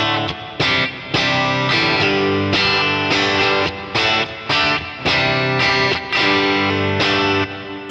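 Electric guitar on its bridge pickup with a bright, Telecaster-like twang, played through a Deluxe Reverb amp: rhythmic strummed chords with short gaps, loud and close, with no voices.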